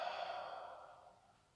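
A long, soft exhale during a yoga breathing exercise, a single airy breath that fades out gradually, close and quiet.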